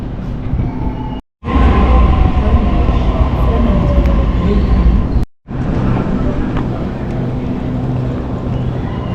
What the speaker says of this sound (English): I think they just call it the new metro, but this part of the like overground is underground